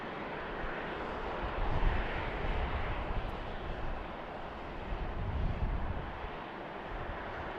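A passenger jet lands on runway 28 at BWI airport, a broad steady engine roar and rush that swells slightly midway, sustained and moderately distant with no talk.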